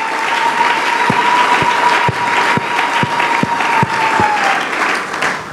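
Congregation at a Sunday church service applauding and cheering loudly, dense clapping and crowd noise throughout with a sustained tone held beneath and a series of regular low thumps.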